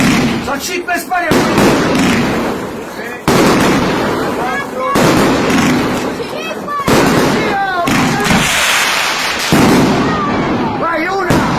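Fireworks burst repeatedly over the Colosseum in Rome during a New Year show, with loud booms, crackling and whistling trails layered continuously, while a crowd cheers and voices speak throughout.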